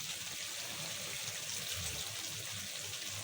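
Vinegar poured into a pan for spaghetti, a steady close trickle of liquid running without a break, with faint sizzling beneath it.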